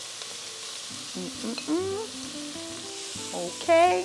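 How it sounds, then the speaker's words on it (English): Bacon and sausage frying in a pan for Brazilian feijoada, a close sizzle and stirring under a man's speech, with brief louder clatters. "So I fry it a little bit first with the sausage."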